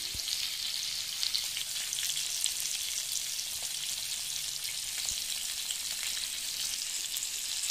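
Two pieces of bangda mackerel fry in a pan over a medium flame, making a loud, continuous close-up sizzle with a few faint crackles and no voices.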